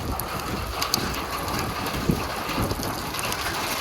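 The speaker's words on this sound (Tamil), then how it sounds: "மழை வேற நல்லா பெய்யுது." Steady heavy rain pours down outdoors at a Tibetan settlement temple, a dense continuous hiss with a few faint tapping drops, with no voices heard.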